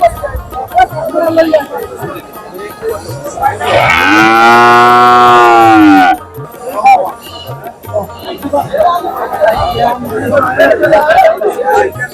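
Cattle moo at a weekly Saturday village livestock market in Jhalakathi, with one long, loud, close moo rising above the steady chatter of the crowd.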